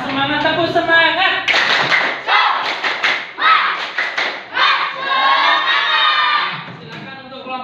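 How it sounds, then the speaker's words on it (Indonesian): A classroom group chants in unison while clapping rhythmic patterns, loud, close bursts of hand claps and thumps interleaved with shouted voices, then a sustained group chant near the end. "Tetap semangat, tepuk semangat."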